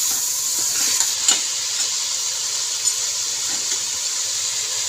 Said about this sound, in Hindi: अब इसको भी हम इसके साथ अच्छे तरीके से फ्राई करेंगे।